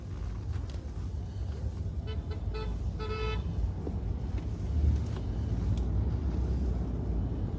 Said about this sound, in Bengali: এগুলো হরেন না দিলে সরে না